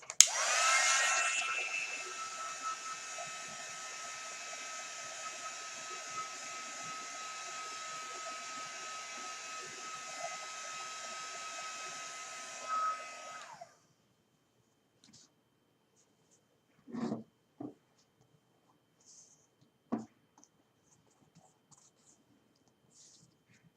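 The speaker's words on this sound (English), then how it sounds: "I'm going to use my dryer." A hair dryer whirs steadily for about fourteen seconds while drying paint, then shuts off, followed by a few faint scratches and clicks in near silence.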